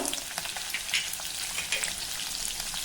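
Chopped garlic, green chili and a pinch of asafoetida fry in a cumin tempering, making a dense, bright, crackling sizzle up close with small popping bursts and no voices.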